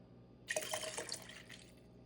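A brief splash of sweet vermouth pours into a glass for about a second, close and fairly quiet, then trails off.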